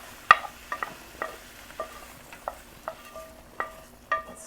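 Spoon stirring mushrooms into coq au vin red wine sauce in a pan, a series of soft wet scrapes and clinks against the pot at an unhurried pace over a faint background hiss.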